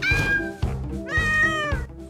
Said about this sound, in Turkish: dişi bir kedi.